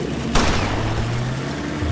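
A single sharp gunshot in a TV drama chase scene, one loud crack near the start followed by a lingering rumble and music bed, with no talk over it.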